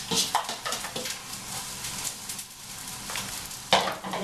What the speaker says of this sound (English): And you're going to saute them until they are pretty transparent.